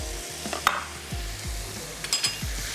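Masala of onion, tomato, red chilli powder, salt and ground garam masala fries in a pan, a soft steady sizzle under repeated spatula scrapes and a few light metallic clinks, close and unhurried with no speech.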